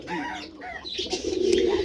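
Pigeons at a loft or farm where many birds are kept coo close by, with overlapping throaty calls that swell and repeat, growing louder toward the end.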